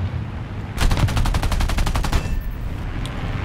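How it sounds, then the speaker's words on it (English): A rapid burst of about a dozen evenly spaced gunshots rings out in a War Thunder ground battle, sharp and loud for roughly a second and a half, then a faint lone shot follows amid low rumbling game ambience. "Let's go give this guy a couple shots since our buddy's creeping on him."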